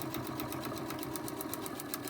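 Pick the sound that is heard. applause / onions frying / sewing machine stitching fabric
sewing machine stitching fabric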